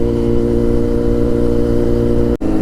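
A Kawasaki Z900 naked superbike in road mode runs with a steady, loud, close engine drone that holds an even pitch, broken by a brief dropout near the end.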